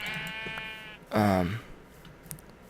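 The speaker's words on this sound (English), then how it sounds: "So let's kill some sheep." A sheep in Minecraft gives one short, loud bleat, near and clear, after a higher tonal sound fades out, with no talking over it.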